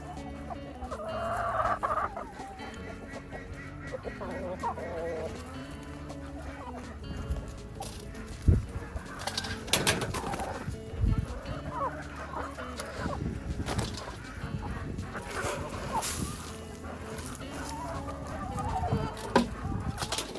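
Backyard chickens cluck and chatter while eating cooked duck, a busy, close mix of repeated clucks and squawks with scattered pecking noises over a steady outdoor background.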